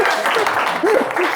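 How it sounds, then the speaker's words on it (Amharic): Brief burst of warm clapping from a studio audience for a contestant on a television quiz game show, heard under a presenter's voice talking over it. "አጨብጭቡለት፣ ሞቅ ያለ ጭብጨባ"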